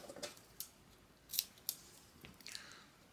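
Scissors snip slots into a fabric bag base, several short crisp cuts spaced irregularly, close and quiet with no talking.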